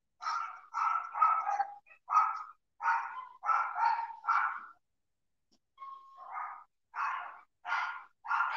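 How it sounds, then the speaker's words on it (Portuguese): A small dog barks in rapid runs of high, sharp yaps close by. The runs are broken by brief pauses and a short whine, in a quiet room. "E olhar meu cachorrinho, senão ele pula a janela."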